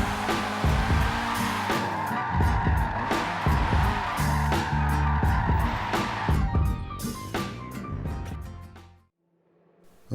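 Car drifting and skidding in the Forza 7 racing game on a wheel setup, engine revving hard with squealing tires over several bursts before cutting off near the end, loud and close.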